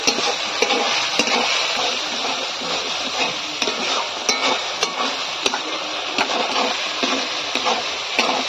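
Spices frying in mustard oil in a pan give a close, steady sizzle with a wet, bubbling texture, punctuated by regular sharp clicks of a utensil stirring against the pan.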